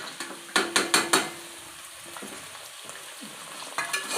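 Chopped beans, carrot and potato frying in a little oil for veg biryani, a quick run of four sharp scraping clatters of a spoon in the pan over a low sizzle, then quieter stirring and a couple more knocks.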